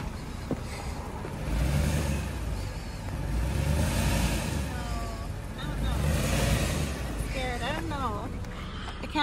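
A Lexus LS 430 car engine revving in repeated swelling surges during a burnout, close by, with people talking over it.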